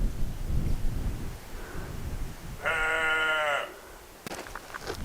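Out on rocky ground during a hike, a goat gives one clear bleat lasting about a second over wind noise, followed by a brief rumbling knock.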